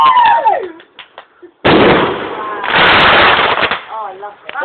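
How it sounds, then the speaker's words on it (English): A firework rocket bursts into a loud, crackling barrage of rapid pops lasting a couple of seconds, close and harsh, with excited voices heard before and after. "Rocket!"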